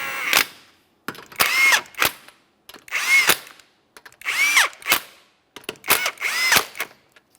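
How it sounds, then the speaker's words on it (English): A power tool snugs up the lug nuts on a 2015-2019 Subaru Outback rear wheel in a series of close, loud whirring bursts with short pauses between them, each burst rising and cutting off sharply. "Once we have that in position, go ahead and snug them up."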